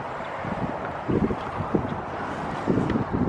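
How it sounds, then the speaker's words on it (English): Wind gusts across the microphone at an abandoned gas station work site, a steady roaring rumble that swells in a few louder buffets, with no talking. "we got our friend the wind back"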